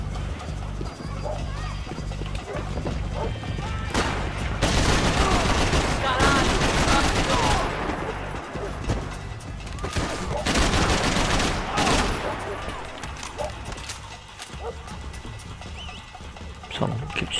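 Uzi gunfire in the video game Max Payne 3, loud bursts of rapid shots in several clusters, mixed with dense action noise and some talking.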